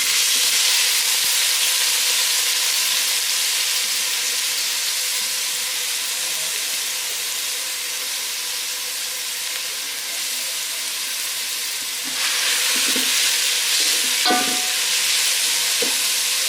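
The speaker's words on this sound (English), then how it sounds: "Fry your onions until they are nicely gold color." Onions fry in hot oil over a low flame with a loud, continuous sizzle and hiss. Light clinks of stirring come near the end, and no one speaks.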